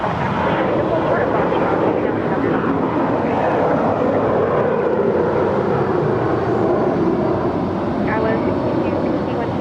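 Jet airliner roaring on takeoff from runway 25 left at LAX, a steady loud engine rumble that holds for the whole stretch with wind buffeting the microphone.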